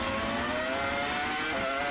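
The BMW FW26 Formula 1 car's V10 engine screams at very high revs, a loud, sustained, piercing wail with a slight shift in pitch across the brief stretch.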